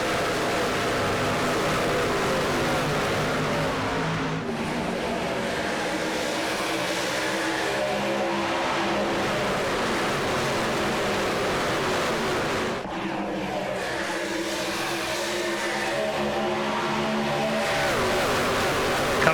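A pack of race trucks in the Hammer Down Truck Series roars past at a restart on an oval track, loud sustained engine drone swelling and fading as vehicles pass in waves, with crowd noise underneath.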